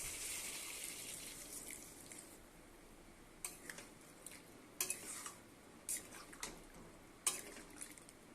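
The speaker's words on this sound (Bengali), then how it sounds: "এখানে আমি জল দিয়ে দেবো গরম জল ব্যবহার করব" Hot water is poured into a cooking pot of Bengali egg curry with half-boiled potatoes, a faint hissing pour for the first couple of seconds, followed by scattered light clinks of a utensil against the pot.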